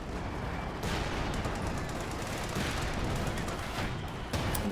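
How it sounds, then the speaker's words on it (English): Dense, continuous battlefield gunfire and explosions from Company of Heroes 2, including American mortar fire, with sustained overlapping bursts and booms at steady loudness throughout. "Could also be like mortaring the base here with the American mortar."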